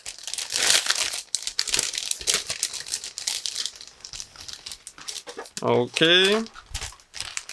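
Close crinkling and rustling of a resealable plastic bag being opened for an ICM 1/32 Tiger Moth model kit, several bursts of handling, followed by a short spoken word near the end.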